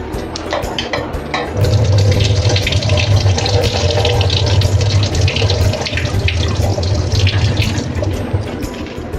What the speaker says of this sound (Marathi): आता अशा पद्धतीने भाजी छान धुवून घेते